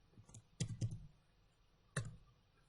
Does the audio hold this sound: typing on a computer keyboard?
yes